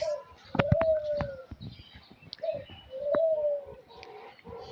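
Pigeons cooing in a quiet space at a zoo, a few drawn-out coos mixed with sharper chirps and small clicks nearby.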